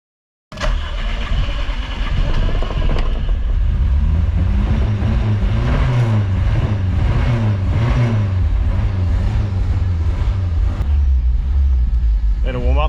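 A Toyota 7K turbo engine fires up for the first time after a build, catching abruptly and running loud and close with repeated revving swells over a rough, uneven idle for about twelve seconds.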